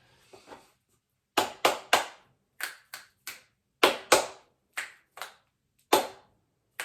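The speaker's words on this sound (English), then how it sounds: "I'm bringing back my clap snaps" Sharp clap snaps made while stretching before bed, about a dozen crisp, close hand strikes in an uneven rhythm, coming in quick pairs and singles over near silence.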